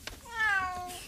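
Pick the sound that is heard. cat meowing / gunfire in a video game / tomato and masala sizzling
cat meowing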